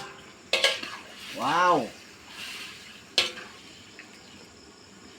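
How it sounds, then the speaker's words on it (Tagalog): Meat for humba hitting a hot pan, with a soft sizzle and scraping of a utensil against cookware, sharp clinks at two moments, and a brief spoken exclamation in between. "ihulog natin itong karne para maluto na"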